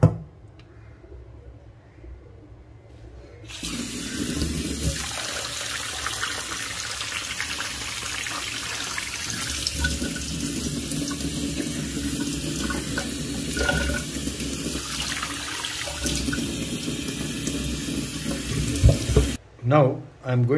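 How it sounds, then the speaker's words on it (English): Kitchen tap water runs steadily over soaked oats in a sieve, a continuous close splashing gush that stops near the end with a few clattering handling sounds; a voice speaks briefly early on. "And I'm going to rinse this oats now."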